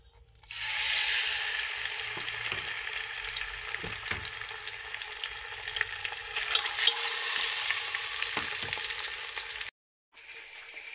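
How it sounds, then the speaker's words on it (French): Marinated fish frying in hot oil, a steady close crackling sizzle that holds for nearly ten seconds with occasional pops, then cuts off briefly before resuming. "Et maintenant, je vais frire mon poisson."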